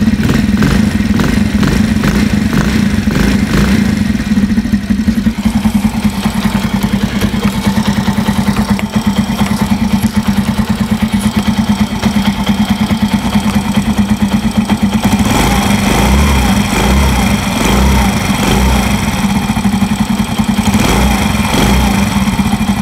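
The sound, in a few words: motorcycle engine idling, exhaust sound check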